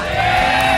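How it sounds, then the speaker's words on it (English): A large audience at a StarCraft II GSL match roars and cheers in one sustained, dense burst that lasts under a second, with no talk over it. "we got a cheer coming"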